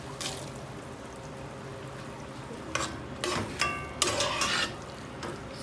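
Sofrito for Puerto Rican arroz con gandules cooks in a pot with a steady low sizzle, joined by several short bursts of scraping and stirring with faint clinks of a utensil against the pot.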